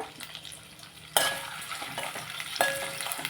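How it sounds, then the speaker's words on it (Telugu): Coconut pieces frying in a pan for sweet pongal, a soft sizzle punctuated by two sharp metallic clinks of a spoon against the pan, quiet and close with no talking. "ఇవిగోండి కొబ్బరి ముక్కలు వేస్తున్నాను బాగా వేగిన తర్వాత"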